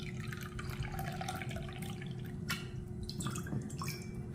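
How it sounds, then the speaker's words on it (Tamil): Measured water for a ragi flour recipe trickles and splashes softly as it is poured from a cup, faint and close, with a few light drips near the end. "இதில் வந்து தண்ணி அளந்து ஊற்றிக்கிறோம்"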